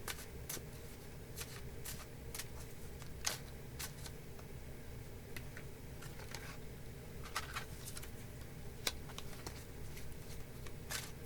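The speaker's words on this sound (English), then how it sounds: "I'm going to go ahead and pull your cards for you" Tarot cards being handled and pulled from a deck: a steady run of soft, close clicks and riffling taps with a few sharper snaps scattered throughout, no talking.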